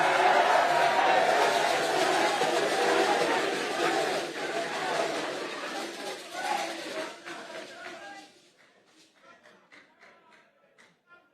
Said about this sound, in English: please, you can't cheer after every sentence I make